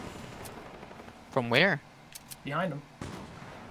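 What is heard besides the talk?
gunshots in Fortnite video game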